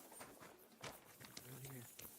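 Rhythmic hoof clip-clops from horses in a game, mixed with a voice talking over them and a low hum underneath.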